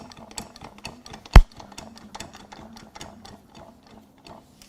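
A 2018 Toyota Camry A25A engine with 116K miles and a failed condition is turned over slowly by hand, giving a steady run of light mechanical ticks with one sharp metallic clack partway through.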